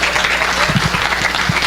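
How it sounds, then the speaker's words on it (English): A congregation at a church fellowship service applauds a departing speaker, steady dense clapping filling the room at an even level, with a few low thumps and faint murmurs beneath. "Let's give him a round of applause."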